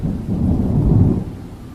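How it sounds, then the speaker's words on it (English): Loud, rolling thunder booms through a thunderstorm in the Appalachian Mountains, swelling and fading over heavy, wind-driven rain hammering down steadily, with no voices. "Rain coming down sideways, thunder so loud it shook the siding."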